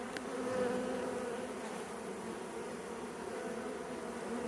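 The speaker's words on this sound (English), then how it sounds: "Lots of fanning, washboarding, letting the bees know" Honeybees fan and washboard during a colony removal, making a dense, continuous buzzing drone that stays steady throughout.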